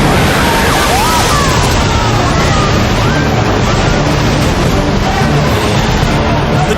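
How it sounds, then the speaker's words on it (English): Loud, continuous roar of muddy floodwater bursting through a collapsing retaining wall, with a heavy wind-like rumble, unbroken throughout and close to the microphone. "The torrent of muddy water explodes through the wall and surges down the incline."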